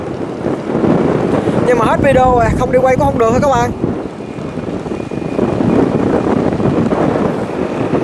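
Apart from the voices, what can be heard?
strong wind buffeting the camera microphone outdoors by a river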